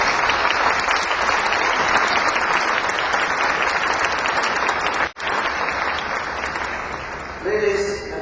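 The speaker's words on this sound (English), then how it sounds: "Let's give them a big round of applause for their success." An audience at a museum exhibition opening for Treasures from China in Ottawa breaks into sustained, dense applause, loud and continuous for about seven seconds before a voice begins speaking at the end.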